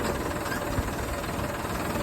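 A steady low tractor engine rumble with a slight knocking vibration, running continuously and fairly close.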